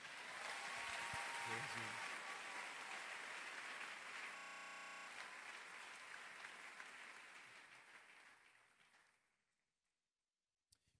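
A church congregation applauding together in praise of the Lord, a loud sustained wash of clapping that slowly fades out to silence, with a single click at the end.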